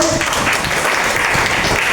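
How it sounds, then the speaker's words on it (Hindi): Classroom applause for a student's correct answer in a history lesson: a short burst of clapping from a group of pupils, moderately loud, with no talking. "जोरदार ताली इनके लिए।"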